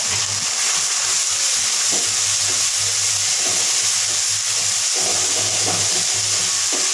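Onions fry loudly in a hot pan with a dense, steady sizzle, broken by a few stirring scrapes.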